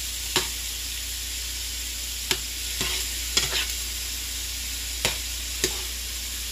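Shrimp fry in a pan for fried rice, a steady close sizzle broken by several sharp scrapes and taps of stirring spaced a second or two apart.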